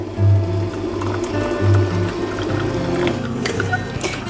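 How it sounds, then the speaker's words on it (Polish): Boiling water poured over gelatin in a kitchen while making a no-bake strawberry cheesecake, a close, loud, splashing fill lasting a few seconds with low hum underneath. "będę zalewała to wrzątkiem. I zalewamy pół szklanki."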